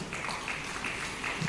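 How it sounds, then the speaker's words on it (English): An audience at a fintech exhibition claps for the participants, making a steady, continuous patter of many hands that stays even and moderately loud throughout. "So please, let's clap for them one more time."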